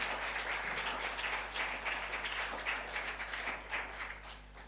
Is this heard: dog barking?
no